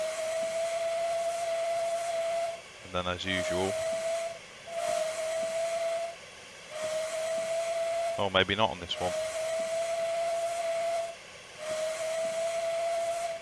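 Steam locomotive whistle of the Caledonia Works Raven A2 in Train Simulator 2019, two loud shrill blasts over a constant steady hiss, with someone speaking in between.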